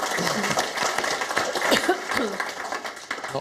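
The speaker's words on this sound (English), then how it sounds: "Round of applause." An audience at a debate on Brexit and free movement claps for the Ambassador, producing a scattered round of applause mixed with chuckles and some voices over it.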